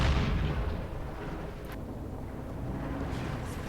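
Heavy booming tank gunfire in Company of Heroes 2, a loud blast at the start rolling into a low rumbling tail with distant battle noise.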